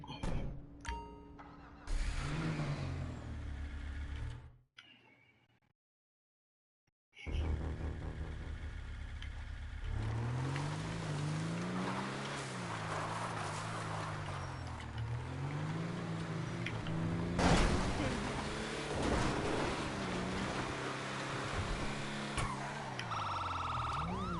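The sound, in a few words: vehicle engine in video game GTA V Online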